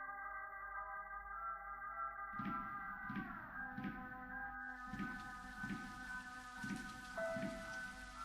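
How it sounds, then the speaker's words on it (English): Steady rain patters over a low electronic drone in the Japanese horror game Milya, with soft, evenly spaced pulses thudding every second or so and no voices. "I could feel the rain coming down."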